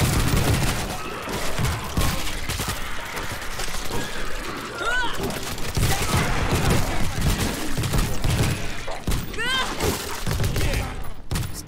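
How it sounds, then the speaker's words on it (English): Dense gunfire from the video game World War Z rattles throughout, bursts and booms layered thickly with game effects while players talk over it. "Stop shooting."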